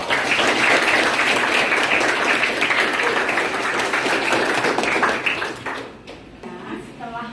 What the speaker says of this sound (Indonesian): Kita kasih aplaus dulu untuk proyek pembelajaran kelompok 2